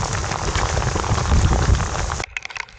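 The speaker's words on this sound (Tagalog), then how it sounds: "Lakas ng ulan, grabe oh." Heavy rain pours in a dense, steady roar at a fishing spot in Baseco, Manila, loud and close, then cuts off abruptly near the end.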